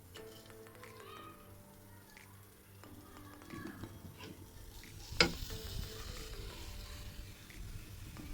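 Boiled raw papaya dropped into a pan with sugar, hissing into a faint, steady sizzle after a sharp clank of the pan, with soft stirring scrapes and ticking underneath.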